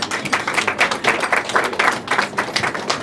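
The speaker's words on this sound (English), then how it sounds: "Age Concern, a big cheer over there." Crowd at an awards dinner in the House of Lords, with dense clapping and cheering spread across the room, steady and fairly loud throughout, with a few sharper claps popping out.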